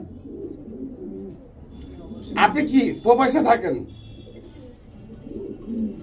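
Pigeons coo softly and steadily in the background while someone speaks over them at close range.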